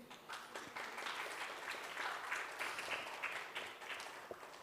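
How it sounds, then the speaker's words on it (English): An audience at a public lecture on education and AI claps for the speakers, a sustained patter of many hands building then holding steady at moderate level, with a few sharper individual claps standing out. "Give applause again."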